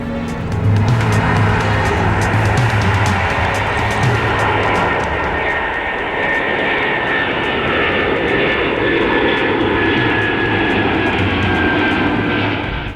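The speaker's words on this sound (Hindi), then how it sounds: "तैयारी पूरी होती है और अगले चंद मिनटों में ये जहाज हवा से बातें करने लगता है।" Air Asia Airbus jet engine roars loudly and continuously during takeoff, a dense steady rush of thrust with a whining tone rising through it.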